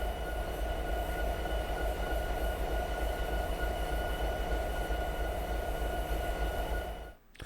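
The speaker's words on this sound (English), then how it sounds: "this is the cab of an SD70 MAC diesel locomotive" Cab of an SD70MAC diesel locomotive in a train simulator game, a steady loud engine drone with constant tonal hum running unbroken for about seven seconds, then cutting off abruptly near the end.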